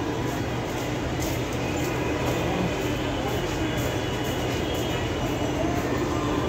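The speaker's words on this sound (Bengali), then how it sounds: "দেখুন ঢুকতেছে একতা express Kamalapur two Dhaka Kamalapur two পঞ্চগড়গামী" The Ekota Express from Kamalapur to Panchagarh rolls into Dhaka airport railway station, a steady, dense rumble of wheels and carriages that holds evenly for several seconds without a break.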